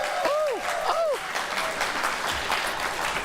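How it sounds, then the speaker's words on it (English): A studio audience claps steadily in a dense, even patter, with a couple of short whooping voices rising over the applause near the start. "Keep clapping."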